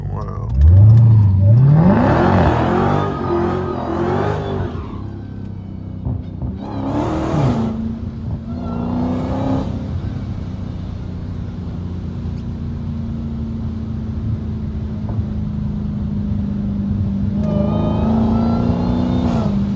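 A catless Hellcat roars through second gear while drifting, starting with a rising rev and then holding a steady, loud engine drone with a few surges, and a voice talks over parts of it.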